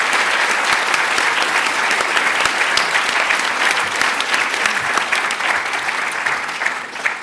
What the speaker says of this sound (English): So big round of applause to start for this incredible panel.